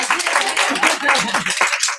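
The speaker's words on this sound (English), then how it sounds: "No, that's a real clapping moment." An audience claps and applauds at a training session, a dense, loud patter under voices that talk over it.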